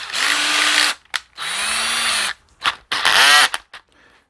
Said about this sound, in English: The drill bit that I'm using for the actual final hole to mount these, I wrote it on here, is 19/64.